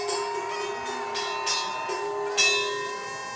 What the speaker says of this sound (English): Make sure you ring it nice and loud, Tony.